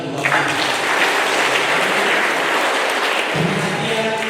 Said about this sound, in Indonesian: Kita berikan tepuk tangan untuk Bapak.